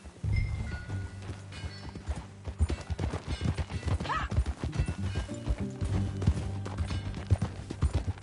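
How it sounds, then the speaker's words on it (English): Horse hooves clip-clop steadily at a riding pace in Red Dead Redemption 2, close and prominent, with a horse snorting and a rhythmic clatter over a low background. "That a new horse?"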